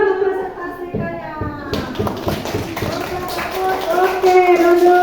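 A classroom of schoolchildren applauding presenters, a dense burst of many hands clapping under children's chatter, fading into general talk and movement noise.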